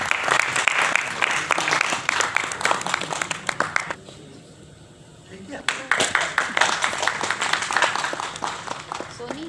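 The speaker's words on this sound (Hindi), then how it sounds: "आपकी जोरदार तालियां।" A crowd at a memorial honouring ceremony bursts into loud applause, dense clapping that dips into a brief quieter lull and then swells again, with a voice speaking faintly beneath.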